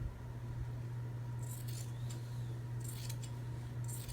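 Scissors snip through fabric for a cushion cover in a few quick, faint cuts in short clusters, over a steady low electrical hum in a quiet room.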